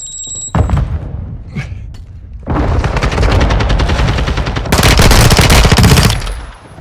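Sustained automatic gunfire in Call of Duty Modern Warfare 2 builds to a loud, dense burst, with a Semtex grenade blast lost among rapid shots; close and harsh, no talk.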